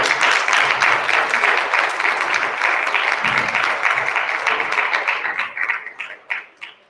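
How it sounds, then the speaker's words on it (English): An audience at a 2021 Muskegon city election debate applauds in a dense, continuous roar of clapping that holds steady for several seconds before thinning out and fading at the end. "Let's give them a round of applause."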